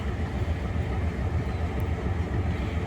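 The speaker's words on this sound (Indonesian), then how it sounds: "Inilah suara mesin lokomotif DF4B" A DF4B diesel locomotive engine rumbles steadily and loudly at close range, a continuous deep drone with no pauses, at a high speed railway worksite where gantry cranes handle rail sleepers.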